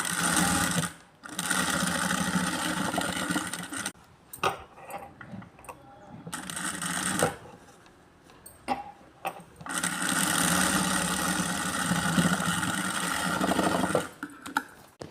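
A sewing machine stitches dots on a blouse front in bursts, its fast mechanical whir starting and stopping several times with short pauses between runs, close and fairly loud.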